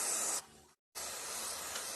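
Jigaloo lubricant sprays in a loud hiss onto a nut on a rear wiper motor of a 2004–2008 Subaru Forester, then stops briefly before a second longer spray.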